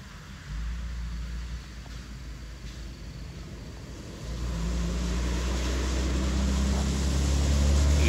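Putra Pelangi Hero bus passing on the road through Lembah Selawah, Aceh, a steady low engine rumble that swells louder and nearer in the second half, with broad road noise throughout and no talk.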